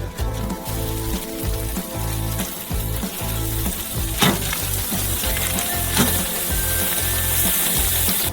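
Three hand-formed meat patties sizzle on a grill: a steady, dense frying hiss with crackles and a few sharp pops, close and fairly loud, with no talking.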